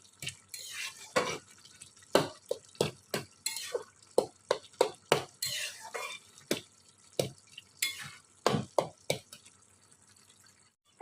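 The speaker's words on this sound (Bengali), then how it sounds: "এখন আমি খুন্তি দিয়ে ভালো করে ঘেঁটে দেব" A metal spatula stirs a simmering yardlong bean and potato curry (borboti alu chorchori) in a pan, making a long run of sharp scrapes and clinks in an uneven rhythm, close and clear over a quiet background.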